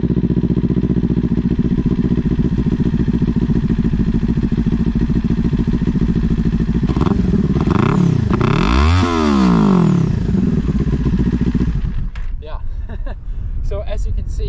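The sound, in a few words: motorcycle revving with slip-on exhaust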